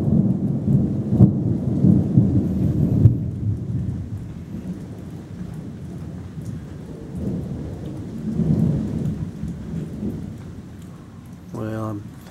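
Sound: thunder and rain of a thunderstorm

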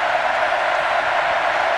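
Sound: crowd cheering at college football game

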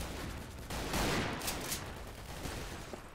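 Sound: gunfire in video game Double Action: Boogaloo

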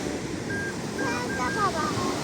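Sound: sea waves breaking on a beach

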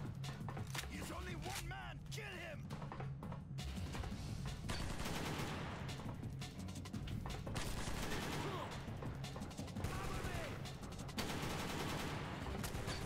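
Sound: gunfire in Secret Service video game

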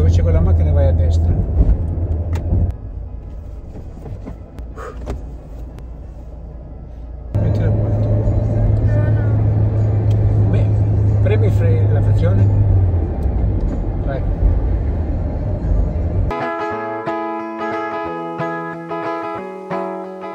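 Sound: car being driven

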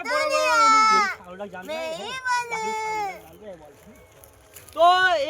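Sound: person imitating a goat's bleat

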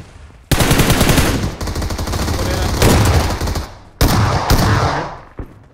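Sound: gunfire in a mobile shooting video game

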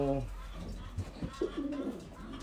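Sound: pigeons cooing at a pigeon loft

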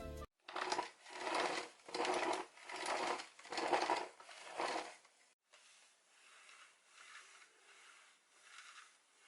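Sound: cordless vacuum brush head pushed back and forth

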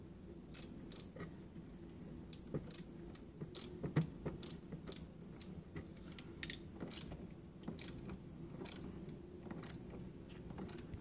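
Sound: tightening Porsche battery terminal with a ratchet

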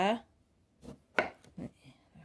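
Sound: knife chopping a lime

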